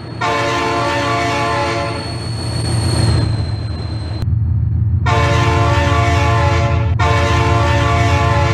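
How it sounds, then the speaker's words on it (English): A train horn sounds loud and close in long sustained blasts with brief gaps, over the heavy rumble of a passing train that continues underneath. "Oh my god, train!"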